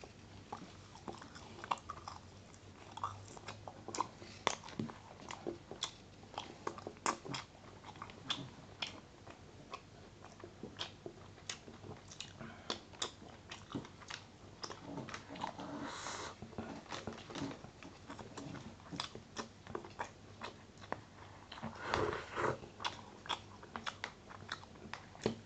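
Close, crisp bites and wet chewing of Chinese fried rice in an ASMR mukbang, with soft clicks and crunches repeating steadily throughout and no talking.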